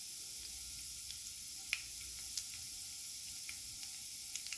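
Fenugreek seeds and chana dal sauté in hot oil for a pickle tempering, a faint, steady sizzle with a few soft ticks and pops scattered throughout.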